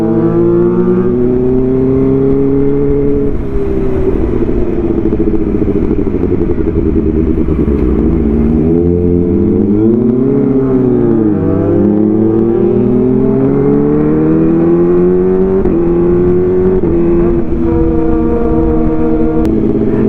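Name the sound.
Kawasaki ZX25R motorcycle revving with loud Arrow exhaust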